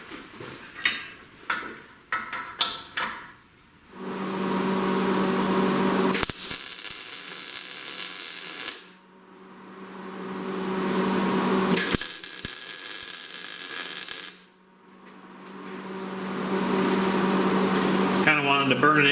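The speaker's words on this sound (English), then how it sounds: "fire up the welder and blast it right here" Welding on a turbo log manifold for a V8 Crossfire project in a driveway: a few sharp clicks, then several long runs of steady buzzing, crackling hiss separated by short pauses.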